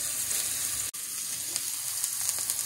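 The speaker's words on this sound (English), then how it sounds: "when you saute the vegetables" Vegetables for a soup sauté in a pan with a steady, close sizzle, broken once by a brief dropout before the crackle resumes evenly with small pops.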